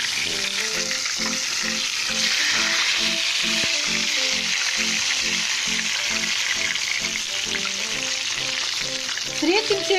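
Belyashi meat pies frying in a pan of hot oil, a loud steady sizzle throughout with a pulsing low rumble, close up, the pies being turned over near the end, no speech heard.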